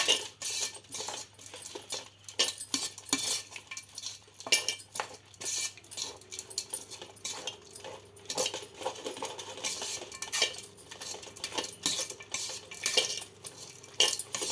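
A spoon scrapes and clatters against a metal pot while tamarind rice is stirred after tamarind is added, a busy, close series of clinks and scrapes with no talking.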